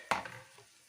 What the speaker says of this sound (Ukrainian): Цибулька вже жариться ось тут.